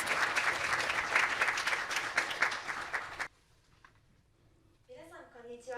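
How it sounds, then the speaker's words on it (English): Warm audience applause welcoming a speaker at a children's peace summit, a full, steady roar of clapping that cuts off sharply, followed by a quiet pause and then a voice beginning to speak. "Now let us all welcome her with a warm round of applause"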